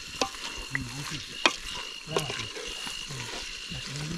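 Chicken being stirred and fried in a pan at an outdoor Konkan cook-up, with steady sizzling and scraping strokes close by and voices talking over the cooking.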